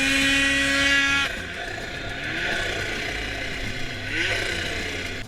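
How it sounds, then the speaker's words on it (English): A ProCharged Polaris 850 snowmobile engine revving with a buzzy, rising and falling two-stroke drone, heard moderately near, with a whirring tone at the start. "It comes from a Polaris 850 snowmobile, and this sounds awesome"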